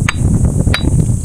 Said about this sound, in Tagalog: Parang iba yung tunog ng mga bato dito.